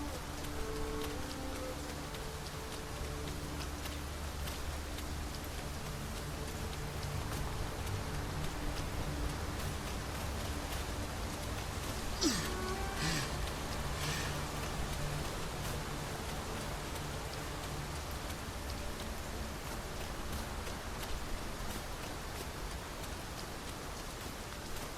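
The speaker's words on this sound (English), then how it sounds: "We must be really down on our luck to get caught out in such a downpour." A downpour of rain hisses steadily in Dragon's Dogma 2, a constant wash of falling water on surfaces with a few faint bird calls and a brief chirp partway through, no voices.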